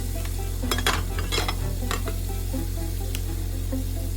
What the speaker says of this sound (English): and cook down, and then toss that around again